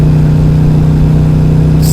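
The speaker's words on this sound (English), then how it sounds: "the beautiful sound of the V-twin" A 2011 KTM RC8R V-twin fitted with an Akrapovic exhaust runs close and loud, a steady throbbing engine note holding level throughout the short stretch.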